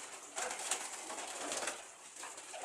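Racing pigeons cooing in a loft, several soft repeated coos close by with a faint rustle between calls.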